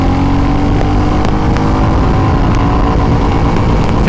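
A Royal Enfield Classic 350 motorcycle accelerates hard through its gears, a loud, steady engine drone with a dense low rumble that holds without a break.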